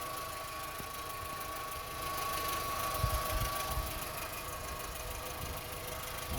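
A 2001 VW Golf engine idles steadily outdoors, a smooth, faint low hum with a light ticking rocker noise and a slight rise in level partway through, no voices.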